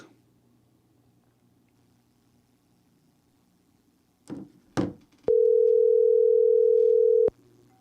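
Telephone line picked up on a radio call-in show: two brief handling clicks, then a loud, steady dial tone holding for about two seconds before cutting off abruptly.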